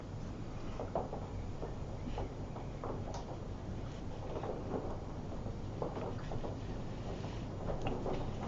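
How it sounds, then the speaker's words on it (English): Heavy rain pounds outside a garden shed, heard from inside as a constant roaring wash with scattered louder hits and rumbling, moderately loud and without voices. "It's raining like mad here"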